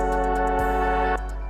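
A plain Serum synth pad, D-Pad 1, holds a steady sustained chord with no Portal effect, then thins out near the end, playing alone with no voices.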